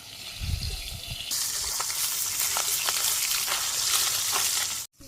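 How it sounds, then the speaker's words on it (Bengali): Fish sizzling steadily in hot oil on a homemade clay stove in a Bangladeshi village kitchen; a loud, continuous broadband fry that swells suddenly after a quieter start and then holds, with no talking. "তেলও গরম হয়ে গেছে, মাছগুলো দিয়ে দিই।"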